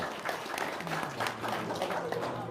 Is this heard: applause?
yes